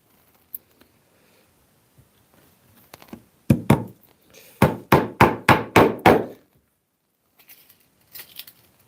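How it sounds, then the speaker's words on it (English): A series of sharp taps from a small nylon mallet, under six ounces, fixing brass pins and edge stripping on a leather trunk: one early hit, then a quick run of about seven evenly spaced knocks, with faint ticks afterward. "using a small nylon mallet."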